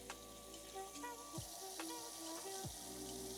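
Water pours into a pot of rice being cooked at home for Christmas, a soft continuous splashing trickle with a few clinks of the pot, quiet and close.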